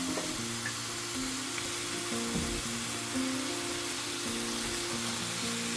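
Chicken feet and noodles sizzle steadily in a frying pan while being stirred, a continuous close hiss with soft scraping underneath.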